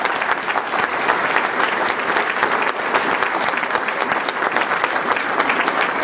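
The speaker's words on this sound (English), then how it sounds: "Let's give a great round of applause for your great governor," A convention hall crowd claps steadily for a Republican governor at the Nebraska Republican Convention, dense applause holding at full strength throughout, loud and close with no voices above it.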